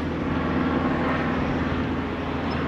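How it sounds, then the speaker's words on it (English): A low-flying propeller plane passes overhead in a town centre, its steady engine drone loud and continuous throughout against street ambience, with no talking. "Oh, look, really low down plane there."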